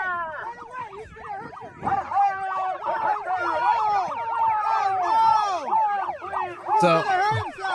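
Several wailing sirens rise and fall together in a loud, overlapping tangle, with shouting voices mixed in and a sharp blast near the end.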